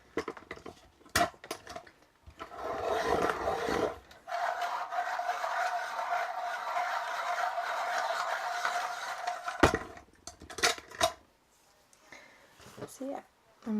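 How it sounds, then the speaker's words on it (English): Burnt sienna Luminance coloured pencil being sharpened, a steady close grinding scrape lasting several seconds between brief knocks and handling sounds, with talking around it. "Hoping my pencil's going to sharpen this time."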